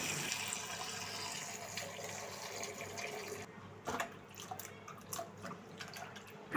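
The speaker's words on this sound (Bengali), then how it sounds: "আর এখন এগুলো ভালোভাবে একটু ধুয়ে নিব।" Peeled latkan fruit being rinsed under running water, with a steady splashing flow from a tap for several seconds, then quieter scattered drips and small splashes near the end.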